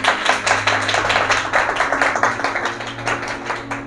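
A church congregation claps loudly and steadily in unison, a dense run of rhythmic hand claps filling the room, with no voices over it.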